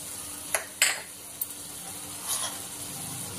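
Spice powders being stirred into a pan of frying methi egg curry with tomatoes and fenugreek leaves, giving a low steady sizzle with a few soft spoon scrapes and clinks against the pan, no talking.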